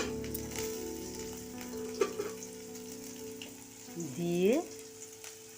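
Minced onion, garlic and ginger hit hot oil in a pan, giving a steady close sizzle with a louder surge of frying near the end, while a voice speaks briefly over it.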